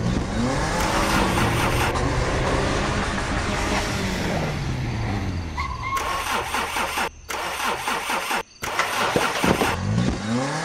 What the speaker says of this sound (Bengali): অদ্ভুত আওয়াজ করতে করতে মোটর বিকল হল